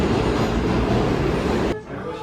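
A New York City subway train rumbles loudly and steadily, its broadband roar filling the space before dropping off abruptly near the end.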